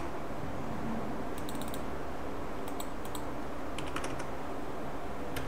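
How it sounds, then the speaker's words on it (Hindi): Computer keyboard typing while building a 3D India flag logo in CorelDraw, a few quick bursts of clicky keystrokes over a steady background hiss, close and moderately quiet, with no voices. "मैं कीबोर्ड में F4 प्रेस करूँगी"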